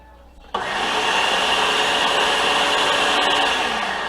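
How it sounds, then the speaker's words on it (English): A blender switches on to blend homemade gyro meat, with the motor starting abruptly and then roaring steadily and loudly, close by with no talking. "let's go ahead and turn this on and blend"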